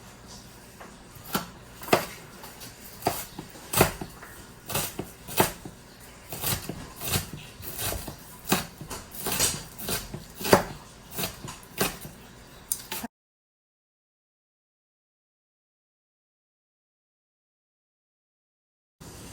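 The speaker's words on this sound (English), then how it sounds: "we're just going to chop them up into little cubes" Knife chopping food into small cubes for chicken rolled taquitos: a quick series of irregular, crisp taps against a cutting board for about thirteen seconds, followed by silence.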